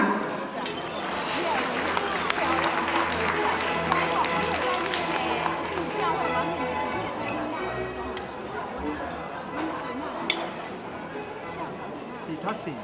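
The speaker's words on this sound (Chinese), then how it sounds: "咱大家热烈鼓掌。" An audience at a North American Changhua association annual meeting claps to welcome its founding chairman, a steady, dense patter of many hands heard from within the hall, with crowd chatter mixed in.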